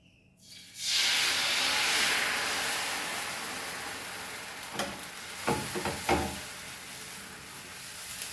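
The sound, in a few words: batter poured onto hot pan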